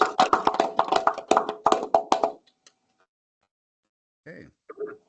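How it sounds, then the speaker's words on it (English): Brief applause for presenters at a student senate general assembly meeting, a small group clapping in quick uneven bursts for about two seconds before stopping, followed by silence and a short spoken sound. "If we can give a nice round of applause to the presentators"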